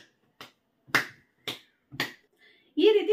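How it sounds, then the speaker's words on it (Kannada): Sharp hand claps done as a clapping exercise, five separate claps spaced about half a second apart with a quiet gap, then a voice starts speaking at the end. "ಈ ರೀತಿ ಕೂಡ ನೀವು ಚಪ್ಪಾಳೆ ಹೊಡಿಬಹುದು"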